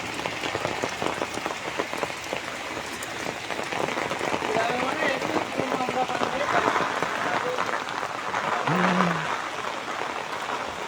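Steady rain falls across a village, a dense, continuous patter on surfaces that runs throughout, with a brief low vocal-like sound near the end and faint activity mixed underneath.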